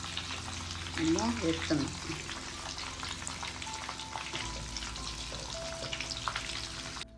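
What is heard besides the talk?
chicken deep-frying in oil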